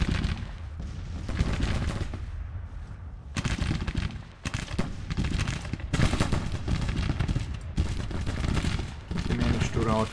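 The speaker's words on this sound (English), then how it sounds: "well, actually they're firing back" Musket volleys and scattered gunfire crackle across a Civil War battlefield in Grand Tactician, bursts of rattling shots in uneven waves with brief lulls between them.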